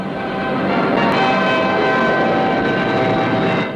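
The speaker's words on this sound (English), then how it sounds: "Notice the effect of reverse thrust from the 4 Rolls-Royce Avon jets as the huge airliner" A large four-engined airliner touches down on reverse thrust from four Rolls-Royce Avon jets, a loud continuous roaring rumble that swells briefly and then holds steady close by.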